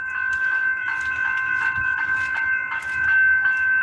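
A Comeng EDI electric train passes close by with a loud, steady rolling roar, a sustained high electric motor whine, and rhythmic clicks of wheels over rail joints throughout.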